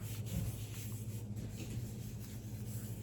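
A crayon or pencil rubs back and forth over a leaf laid under paper, a quiet, close scratchy rasp in steady repeated strokes.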